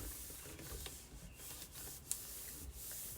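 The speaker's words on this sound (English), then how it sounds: "So I'm going to just rub this all over so it'll get stuck down there." A transfer is rubbed by hand across the curved surface of a galvanized metal bucket, giving a steady, soft scratchy friction that runs continuously at close range, with one sharp tick partway through and no talking.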